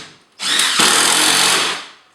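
A Hitachi 18 volt impact driver sinks a big screw into wood in one continuous, loud, close burst of hammering whine lasting over a second, then spins down, with no talking.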